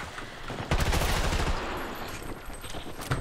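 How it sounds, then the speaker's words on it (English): Rapid gunfire from a rooftop in the video game Battlefield 2042, a dense, loud sustained burst of shots under dense battle ambience. "You're just shooting me from the roof."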